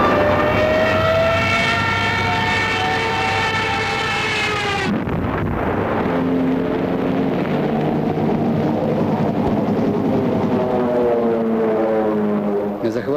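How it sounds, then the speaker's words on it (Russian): A Japanese passenger plane lands at a captured airfield, its engines roaring loudly and droning steadily, then the pitch drops sharply and a rising and falling whine continues as the aircraft rolls out. "В захваченном аэродроме приземлился японский пассажирский самолет."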